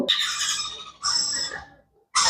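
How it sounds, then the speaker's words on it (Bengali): A roughly forty-day-old hand-fed blue conure chick gives loud, harsh screeching calls close by, one long call and a shorter one, with a brief pause before another begins. "অনেক সুন্দর ব্লু কনারের বাচ্চাটা"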